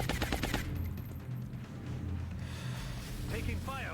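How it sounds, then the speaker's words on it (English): Rapid automatic gunfire from the XCOM: Long War video game rattles continuously in dense bursts, loud and sustained throughout. "Taking fire over here."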